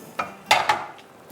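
A few scraping, clattering strokes as potatoes and green beans (phali) are stirred in a cooking pot, three distinct knocks spread over a quiet moment, fairly close and without talk.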